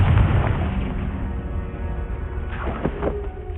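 A Confringo explosion spell cast in the Hogwarts Legacy video game, a heavy low boom at the start that decays into rumble, followed later by a few softer pops and crackles.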